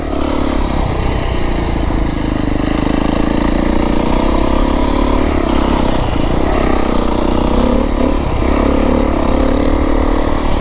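A 2025 Beta 350RR X-Pro dirt bike running the open map with an FMF slip-on exhaust, a loud, close, steady engine drone being ridden through a trail section with no talking.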